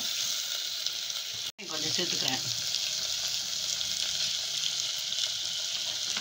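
A pinch of salt goes into food sautéing in a pan, which sizzles loudly and continuously. The hiss cuts out for an instant, then resumes, while a voice speaks briefly over it.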